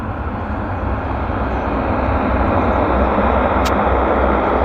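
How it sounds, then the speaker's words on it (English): A Pacific Coastal Beech 1900D turboprop lands at Vancouver airport, giving a loud, steady roar of engine and rushing air that holds evenly throughout without any speech. "Not a bad landing on the Pacific Coastal. Our first arrival of the show, Beech 1900D, stretched upper deck."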